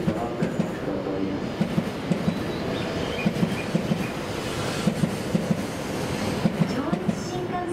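A JR Joetsu Shinkansen E7 series train pulls into Tokyo Station with a steady rolling rumble and paired rhythmic wheel clacks repeating throughout, heard close against the station's ambient noise.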